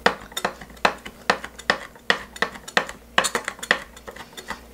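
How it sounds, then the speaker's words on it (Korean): A kitchen knife minces dried Cheongyang chili peppers on a cutting board in a steady run of sharp, close chops, roughly fifteen in under five seconds, with no talking. "칼로 마저 조금만 더 다져줍니다"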